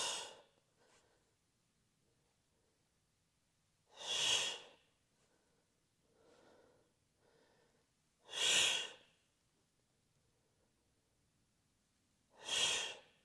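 Forceful exhalations during a full-body workout exercise come as four strong breathy bursts at even intervals, each followed by quieter inhales in between, close and isolated.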